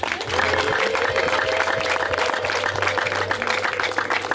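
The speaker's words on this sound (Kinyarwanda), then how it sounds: "Amashyi n'impundu." Wedding guests clap steadily while a high wavering ululation rises through the cheering, close and lively, with a little voice underneath.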